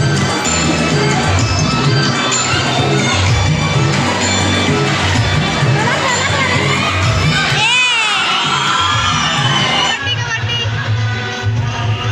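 A large outdoor crowd at a village kho-kho match cheers and shouts continuously, with children's excited yells rising above a dense, loud roar throughout.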